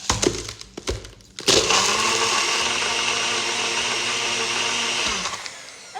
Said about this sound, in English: And then we're gonna blend that up.